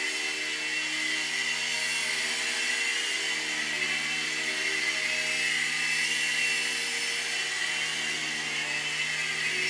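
A Litehawk 6996 three-channel RC toy helicopter runs with a steady, high-pitched electric whir of its rotors, constant and close for the whole stretch with no talking.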